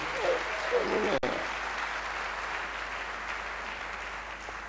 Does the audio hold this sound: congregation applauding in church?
yes